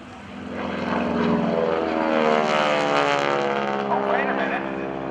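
Propeller airplane droning past at the NAS Oceana airshow, a loud sustained engine roar that swells and shifts in pitch as it passes, with a voice faintly audible beneath.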